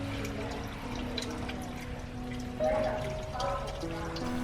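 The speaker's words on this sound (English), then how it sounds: "Water is leaking here." Water leaking from an inverter direct drive washing machine, a faint continuous trickle and pour under low mechanical hum with a few tonal whines.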